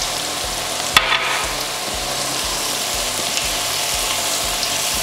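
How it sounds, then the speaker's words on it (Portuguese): Onion frying in a pan for salt cod, sizzling steadily and loudly throughout, with a sharp metallic clack of the spoon near the start and regular scraping stirs under the hiss; no voices. "Vamos mexendo e deixar fritar até ficar macia."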